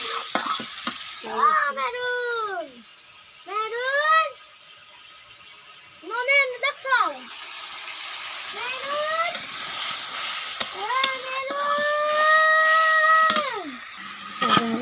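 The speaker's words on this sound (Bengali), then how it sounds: "মাছগুলি কষা করছি" Shing fish (stinging catfish) sautés in a pan with a steady background sizzle and occasional stirring, while high sing-song voices, likely a child's, repeatedly talk over it.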